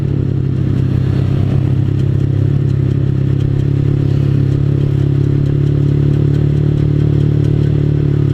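Manual-clutch motorcycle engine braking down a long descent in fourth gear, a steady loud low drone holding even throughout with faint clatter and wind roar over it, no voices.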